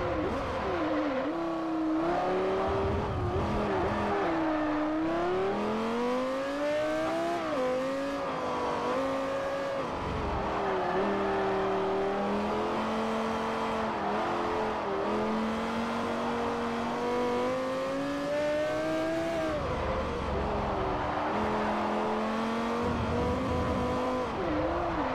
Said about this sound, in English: That's one hell of an engine noise.